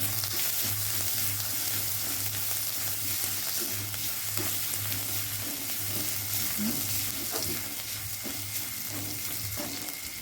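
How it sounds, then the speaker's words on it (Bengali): Finely chopped ginger frying in oil in a pan, giving a continuous even sizzle with occasional soft stirring sounds over a low steady hum, no talking. "আদাটি ভালোভাবে ভাজা হয়ে গেছে।"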